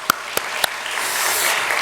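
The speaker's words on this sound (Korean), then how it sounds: "하나님께 영광의 박수 돌리겠습니다." A church congregation at a Sunday worship service breaks into applause after a few sharp separate claps, building into a dense, close clapping wash.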